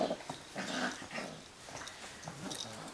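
Wirehaired Pointing Griffon puppies growling and grumbling in playful bursts on a kitchen rug, faint and close, with a few whimpers mixed in.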